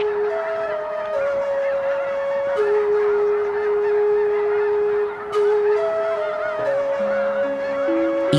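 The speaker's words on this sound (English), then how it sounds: "From every lake and marsh, ducks and geese join up and flap their way through the sky" Ducks and geese honk repeatedly, with sustained, tonal calls that overlap and shift in pitch, mostly fairly loud and near, over a steady background. Several birds seem to call at once, and no one speaks.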